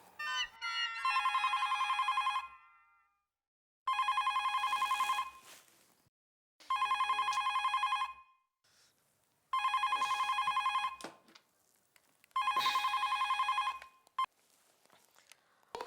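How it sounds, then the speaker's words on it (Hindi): A landline telephone rings in five evenly spaced bursts, each a loud trilling bell lasting about a second and a half, separated by short silences, with no talk over it. "मैं उनके लैंडलाइन पे ही फोन करता हूँ।"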